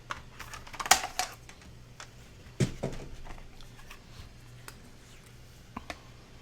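Paper for a mini album is cut down to size in a few short, crisp strokes, close and moderately loud, with quiet handling sounds in between.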